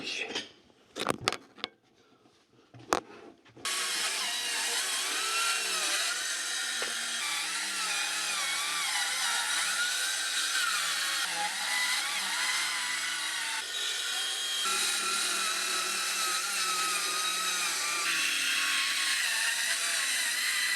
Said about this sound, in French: il faut couper à la scie circulaire